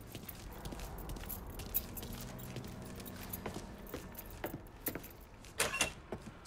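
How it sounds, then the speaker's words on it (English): Keys jangle as they are picked up in the video game Mafia III, a brief metallic rattle over a busy game soundscape with vehicle engine rumble, footsteps and clip-clopping hooves. "Lincoln, pick up the keys."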